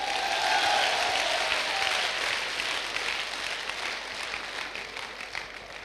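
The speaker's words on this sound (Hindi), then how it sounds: "ताली हो जाए आप लोगों के लिए।" A seated audience at a business motivational event applauds steadily, a dense wash of many hands clapping loud and sustained, easing only slightly over several seconds with no voices on top.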